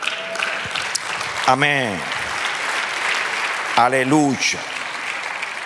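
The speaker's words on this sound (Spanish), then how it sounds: "Dele un aplauso." Church congregation applauds through a sermon, steady broadband clapping held under two short spoken interjections from a preacher.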